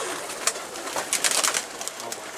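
Pigeons on a rooftop coo softly and shuffle nearby, with faint scattered bird sounds and rustling over quiet background noise.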